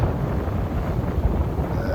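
Steady wind roars across the microphone while a sailboat heads out of St George's Harbour in southern Grenada in about 20 knots of breeze, a continuous low rumble with faint water wash beneath.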